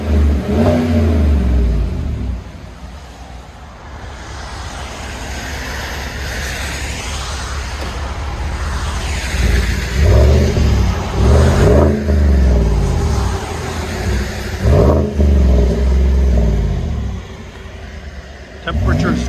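Chevy Silverado with a 5.3L V8 and Borla exhaust revving repeatedly, deep engine swells rising and falling up close, with someone talking over parts of it.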